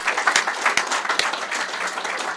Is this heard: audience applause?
yes